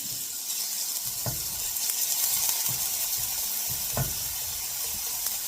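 Bacon in a non-stick skillet gives a steady, bright frying sizzle that holds even throughout, with a few soft clinks and taps from the pan. Nobody speaks.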